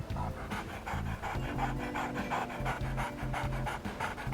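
A dog pants rapidly and rhythmically, close and steady, with no voices over it.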